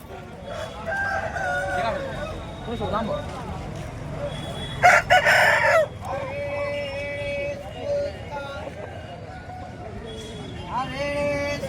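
A rooster crows loudly amid the clucking of other fowl at a hen market in Bhadradri Kothagudem, India, with people talking and haggling in the background and a burst of noise midway.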